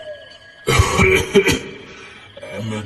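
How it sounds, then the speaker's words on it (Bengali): A single deliberate, throaty cough is performed close to the microphone in a Bengali audio drama, loud and brief, followed by a quieter, lingering tail. "ঘোর কাটল ভৈরবতান্ত্রিকের সচেষ্ট কাশিতে"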